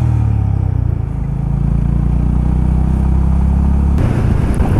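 A motorcycle speeds along an expressway on a road trip to Coorg, its engine a steady loud drone under rushing wind, with a sudden change in tone near the end.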